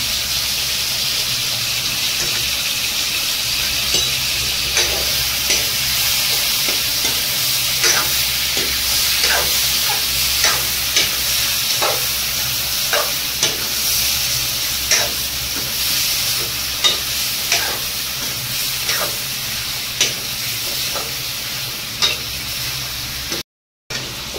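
Kolhapuri-style mutton masala frying in a pan under a constant hissing sizzle, with regular scraping strokes of a spoon stirring through it, close and fairly loud, before a brief cutoff at the end.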